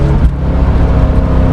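Engine of a 1967 Corvette sounding loud and close, a steady deep rumbling drone with a slight rise in pitch, brief and without talking.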